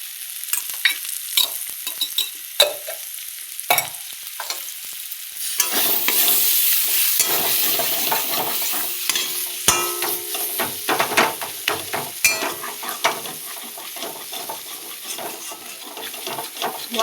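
Spices frying in a little oil in a pan, stirred with a utensil: a bright sizzle swells in after quiet scrapes and taps, then continues with frequent clinks and scraping strokes, close and fairly loud.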